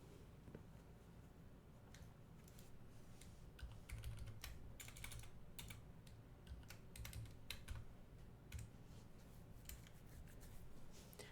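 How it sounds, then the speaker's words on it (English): Computer keyboard typing runs steadily throughout, in irregular bursts of quick clicks close to the mic, over a low background hum with no talking. "Typing in chat just in case you can't see me"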